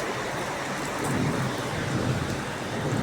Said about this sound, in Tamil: நல்ல ஒரு மழைங்க, அப்படியே விடாமல் பெஞ்ச மழை.